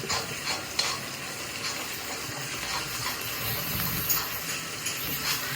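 Ginger garlic paste and spices for goat leg paya sizzle in a pan, stirred steadily close by, with soft scraping strokes and intermittent clinks over the constant frying hiss.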